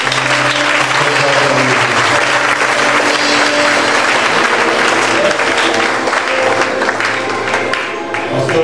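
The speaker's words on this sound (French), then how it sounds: "Est-ce qu'on peut acclamer encore Jésus?" A church congregation applauds and cheers loudly and continuously, a dense wash of clapping from a large crowd filling the room, with a faint voice beneath it.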